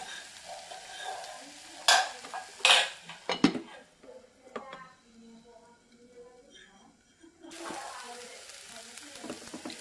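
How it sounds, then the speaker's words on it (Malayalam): Masala for a chicken cutlet filling being stirred and chopped in a hot pan, with a few sharp spoon-on-pan clanks early on, soft sizzling and scraping throughout, and a brighter burst of frying noise near the end. "അപ്പോൾ ഇത് നല്ലോണം മസാലയായിട്ട് യോജിപ്പിക്കാനൊരു 5 മിനിറ്റും കൂടി കൊത്തി വേവിക്കുക"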